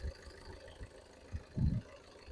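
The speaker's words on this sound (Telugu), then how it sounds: "చాలా సైలెంట్గా ఉందండి ఇంజన్." A 2020/21 Tata Altroz XZ diesel engine idles very quietly, a faint low rumble with soft, steady pulsing and no talk.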